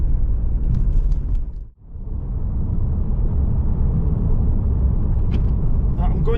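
A Vauxhall Nova with a 2.0 8v engine driving on a country road, its engine drone and road rumble heard steadily from inside the car, dipping briefly as the driver changes gear before settling back to a constant hum.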